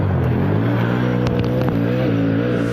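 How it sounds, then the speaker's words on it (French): Engine and twin rear exhaust of a 2014 Can-Am Maverick MAX XRS DPS side-by-side, a loud, close, continuous motocross-style rumble with slight pitch rises and falls, heard alone. "Le son aussi, la sonorité que ce véhicule a dans la ligne d'échappement, un vrai style motocross qui ressort double en arrière"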